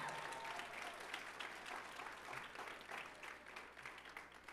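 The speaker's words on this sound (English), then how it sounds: "Let's have a round of applause for Jennifer" An audience at a ceremony gives a round of applause, a dense, even patter of many hands clapping together for several seconds, soft and somewhat distant.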